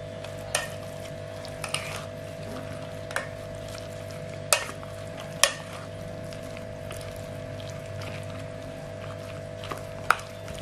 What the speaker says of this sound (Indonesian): Kita aduk rata kembali sampai tercampur rata semuanya.